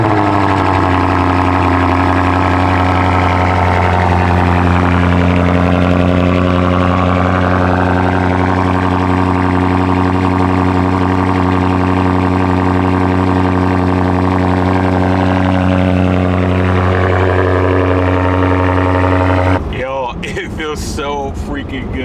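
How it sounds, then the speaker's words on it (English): A BMW M5 engine runs loud and close after a cold start, holding a deep steady drone with a raised idle that slowly shifts in tone. Near the end it drops to a quieter idle as a voice starts talking over it. "let's go ahead and get a freaking cold start on this thing"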